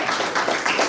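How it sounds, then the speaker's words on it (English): Audience applause at the Afro Future Summit 2023, a steady wash of many hands clapping across a large room, dense and even for the whole moment with no break. "can you please give one more round of applause for that?"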